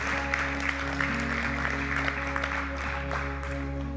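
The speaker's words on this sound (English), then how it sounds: "let's just applaud that God is moving in our space" Church congregation applauding during a worship service, a steady spatter of clapping running under sustained keyboard or music tones throughout.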